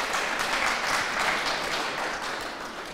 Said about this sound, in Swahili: Piga Njoki makofi na wote hawa.